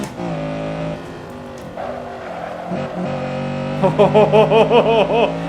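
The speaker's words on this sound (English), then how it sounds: "Listen to that beautiful 4-cylinder naturally aspirated VTEC engine." A 1991 Honda Civic Si-R (EG6) four-cylinder naturally aspirated VTEC engine in the video game Assetto Corsa at Zandvoort track revs through gears, its harmonic whine rising and dipping, then a rapid pulsing rev near the end, loud and close.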